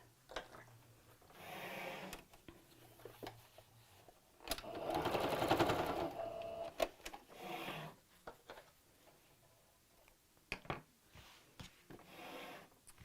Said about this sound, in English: just sew across the end